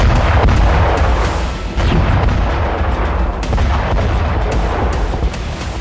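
Loud, rumbling blasts of wartime explosions in the Russia-Ukraine war, with several sharp booms and bursts scattered over a continuous roar.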